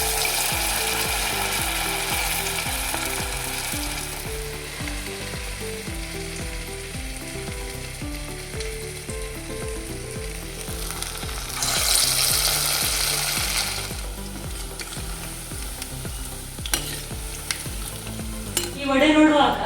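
Small vada dough balls made without urad dal deep-frying in hot oil, a steady loud sizzle and crackle running throughout, with rattling clicks of utensils and a brighter burst of bubbling partway through.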